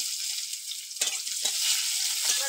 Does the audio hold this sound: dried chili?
yes